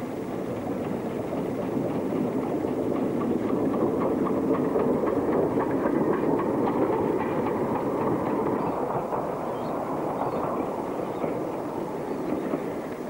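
Australia's oldest operating steam locomotive runs along a line serving resort stations, its heavy rumble and rhythmic clickety-clack carrying evenly and moderately loud for the whole stretch without any voices.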